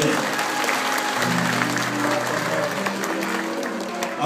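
Applause from guests at a Romanian wedding celebration in Munich, a loud, sustained clatter of many hands clapping throughout, with a voice speaking over it.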